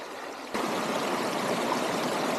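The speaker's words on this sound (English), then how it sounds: "I'm glad it's a small little creek here." A small mountain creek runs beneath cliffs and trees, starting abruptly and then rushing in an even, continuous wash of water.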